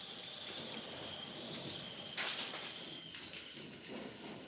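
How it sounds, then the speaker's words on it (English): Steady hissing spray of water from a hose rinsing a car, with brief louder surges partway through. "let's get back to rinsing, applying our first bit of water"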